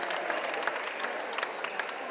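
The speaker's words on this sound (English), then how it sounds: "He gets a nice round of applause." Spectators at a Concord vs Nashua North boys high school basketball game applaud an injured player, a steady wash of clapping and crowd noise throughout with a few sharper claps standing out.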